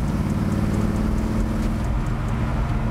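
Deep, low V8 exhaust burble from a 1967 Chevelle with a 454 cubic inch engine, a steady, rumbling idle-like throb heard up close for a few seconds with no voices.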